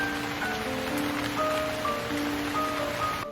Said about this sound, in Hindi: आसमान से बारिश होने लगती है दोस्त।